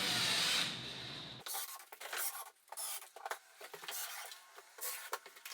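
A screw is driven into a wainscoting panel in a few short, rough grinding bursts after an opening swell of louder noise, with small scrapes and gaps of near quiet between them.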